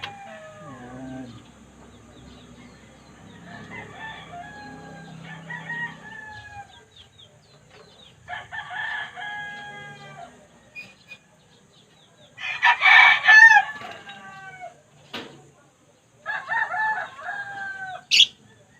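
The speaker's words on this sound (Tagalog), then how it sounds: "Itong mga alaga ko African bird." Pet African birds calling repeatedly in bursts of harsh, rooster-like crowing and clucking, fairly close and loud, with short pauses between calls and no talking.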